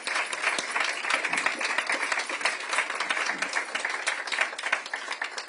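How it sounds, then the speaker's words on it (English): Audience in a hall applauding freed hostages at a Nova Music Festival exhibition, dense even clapping from a large crowd that sustains at a steady level throughout. "please give them a round of applause for their bravery for being here."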